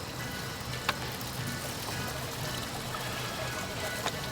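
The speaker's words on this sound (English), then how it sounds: "Now we're just draining the coolant." Coolant draining from a 2016 VW Sportwagen during water pump housing work: a steady, faint trickling pour that runs throughout, with a couple of brief small clinks.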